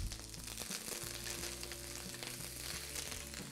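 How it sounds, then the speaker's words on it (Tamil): Dried red chillies and a sprig of curry leaves frying in hot oil for a ginger and ridge gourd chutney, giving a steady, loud, dense sizzle and crackle close up throughout, with no voices. "ரோஸ்ட் ஆகும்போதே இந்த எண்ணெயில் இந்த 8 பெடிகே சில்லியும் போட்டு கருப்பாகாமல் வறுக்கணும்."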